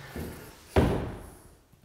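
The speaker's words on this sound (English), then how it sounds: "until you close the door." An interior door swings shut in a hallway beside a laminate-floor transition, landing as a single solid thud that rings briefly and fades, with faint room noise before it.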